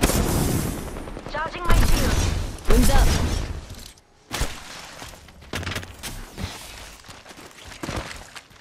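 Apex Legends battle gunfire: two loud, close bursts of rapid shots early on, then scattered quieter shots and impacts, with players talking over the fighting.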